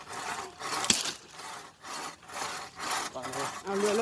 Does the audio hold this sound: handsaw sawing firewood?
yes